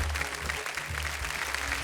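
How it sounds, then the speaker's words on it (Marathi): An audience at a televised Marathi kirtan competition applauds for a kirtankar, a sustained, even burst of crowd clapping over a low hum, close and fairly loud. "जोरदार टाळ्या झाल्या पाहिजेत त्यांच्यासाठी."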